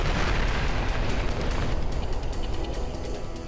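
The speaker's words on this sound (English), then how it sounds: "Then, 9 seconds later, another huge explosion." A huge explosion rips through an aircraft carrier, a loud, sustained roaring blast with rumbling and crackling debris that slowly dies down.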